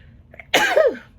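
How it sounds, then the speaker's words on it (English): A single sharp sneeze, loud and close, bursts out after a brief quiet moment with faint background hum. "I'm gonna sneeze, hang on"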